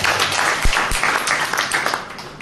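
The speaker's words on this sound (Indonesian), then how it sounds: "Berikan tepuk tangan yuk." A church congregation applauding during a sermon: continuous, fairly loud clapping that fills the space, with a couple of sharper thumps near the start.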